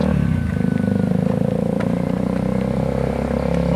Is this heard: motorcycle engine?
yes